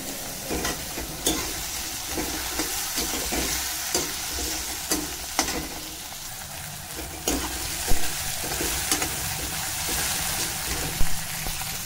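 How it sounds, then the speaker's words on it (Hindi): Mixed vegetables frying in a pan for savory vermicelli, with a constant loud sizzle and regular scraping strokes of a spatula stirring them through the oil, close by and with no talking. "सारी सब्जी हम इसमें ऐड कर देंगे।"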